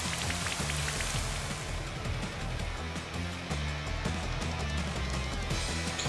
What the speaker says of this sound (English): So he's gonna set up Rain Dance now.